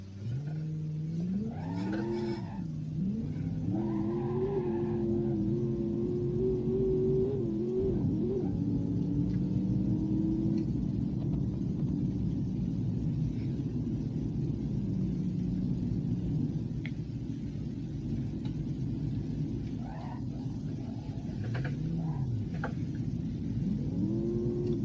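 Manual-transmission car engine in the BeamNG.drive driving game, a continuous droning hum that rises and falls in pitch as it revs and shifts gears, alone with no talking.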